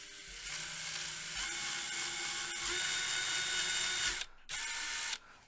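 A drill boring a small hole in wood whirs steadily at close range, its motor tone holding even, with two short pauses near the end as it stops and restarts.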